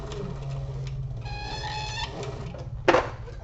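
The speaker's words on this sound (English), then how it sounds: "Just going to make sure everything stays kind of lined up as we sew across it." A sewing machine stitching across a fabric toiletry kit near its handle, a soft steady mechanical hum with a brief tonal whir in the middle and a sharp clack near the end, quiet and close.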